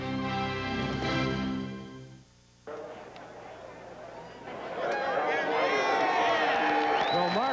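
After a 1998 IROC race at Indianapolis, a huge grandstand crowd applauds and cheers for Mark Martin. A fading Pontiac Firebird Trans Am engine gives way to a broad, sustained roar of cheering under an announcer's voice.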